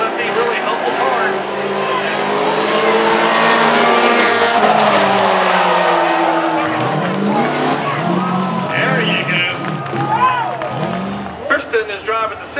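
A Honda Civic and a Ford Mustang race at Langley Speedway during a Wacky Wednesday event, engines roaring and tires squealing near and loud while an announcer talks over the noise and the crowd reacts.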